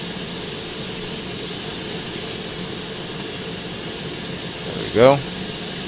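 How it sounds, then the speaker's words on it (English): A Boeing 767 jet engine in Microsoft Flight Simulator X spools with a steady, even whine and rumble, continuous and moderately loud, with a short spoken remark near the end. "Engine start, you alternate back and forth between the igniters, 1 and 2."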